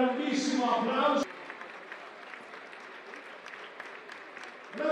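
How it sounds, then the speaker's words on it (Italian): A crowd at a women's EuroCup basketball game applauds Urban Dance performers, steady clapping in an arena that follows a burst of loud announcer speech. "Bravissimi, un grande applauso, amici, per Urban Dance."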